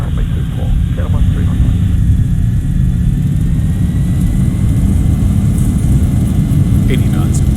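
Zibo 737 jet engines in the X-Plane 11 flight simulator roar steadily on the takeoff roll at Gardermoen in gusty wind, a loud constant low rumble beneath intermittent radio talk.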